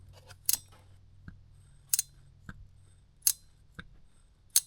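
Sharp, isolated clicks from a ratcheting wrench turning a bolt on a Jeep JL, about half a dozen spaced irregularly over a few seconds against a low background hum.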